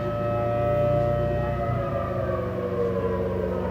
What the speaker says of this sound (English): the tornado sirens go off here in Crane